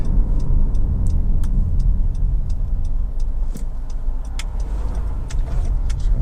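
Interior rumble of a Honda CR-V 2.0 i-VTEC EX 4x4 picking up speed on the road, a steady low engine and road drone with light ticking clicks scattered over it, and no one talking.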